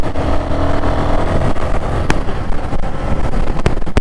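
A Royal Enfield Guerilla 450 motorcycle rides along Indian roads, its engine a steady loud rumble with rising and falling throttle and wind rush, heard close with no voices.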